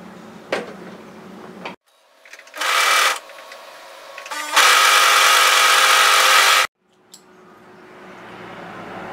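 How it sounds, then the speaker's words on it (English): An overlock serger stitches sweater knit seam edges in short bursts, a fast loud mechanical whirring that starts and stops several times, with clicks and handling noises between runs. "So we're going to fold this right sides together and overlock serge"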